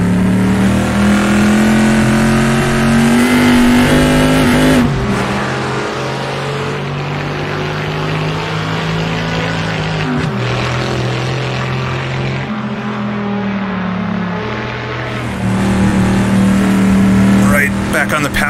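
A Chevrolet Stingray Corvette engine in a 1960s racing game, roaring loud and steady throughout, its pitch climbing and dropping with gear changes and throttle lifts near five, ten and fifteen seconds.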